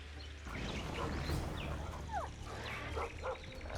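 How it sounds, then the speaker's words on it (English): A dog barks and whimpers in The Witcher 2 video game, several short calls over a steady low hum and ambient game noise, moderately close. "That's Grindley's dog."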